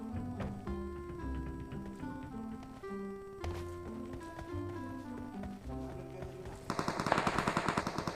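Rapid automatic gunfire in the battle royale game PUBG on the Erangel map bursts in near the end, a quick string of shots over ongoing game music.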